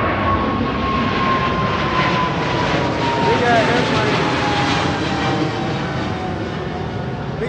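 A loud, continuous airplane engine roar overhead in California fills the scene, steady and droning throughout, with faint wind and background noise mixed in.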